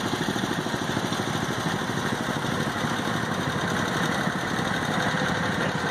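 A 1988 Model 12 garden tractor with a 38-inch deck putters along in a tractor parade at the 2016 Yankee Engine Show. Its small engine chugs at a fast, even idle-like rhythm, close and steady throughout.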